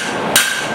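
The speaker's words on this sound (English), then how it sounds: "This will probably be my last forging heat" A single sharp hammer blow on hot metal during hand forging of a tiny hammer, ringing briefly over steady workshop background noise.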